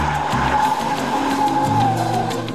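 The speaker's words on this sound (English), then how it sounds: "He got the hang of tricky maneuvers like skid turns and donuts." A car skids through skid turns and donuts on a driving test course. Loud, continuous tire squeal rides over a revving engine, close by and uninterrupted.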